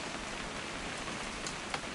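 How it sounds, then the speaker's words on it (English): Steady rain falls in the video game What Remains of Edith Finch, a dense, even hiss of drops on surfaces that continues unbroken with no voices. "It's gonna rain the whole weekend"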